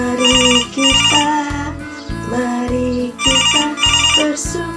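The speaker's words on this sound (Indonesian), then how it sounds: "Ada telepon." A telephone ringtone for an incoming call plays a loud, bright repeating electronic melody in regular bursts, close and clear, while a voice briefly speaks over it.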